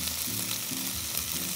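Food sizzling in olive oil in a pan, a dense, steady crackle close by with a faint low tonal hum underneath, no voices.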